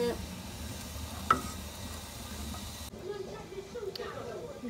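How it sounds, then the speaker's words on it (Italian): Pasta e fagioli in a pot on a wood stove, quiet stirring with soft scrapes over a low simmering hiss and a single sharp clink, fairly faint throughout. "Una bella mescolata."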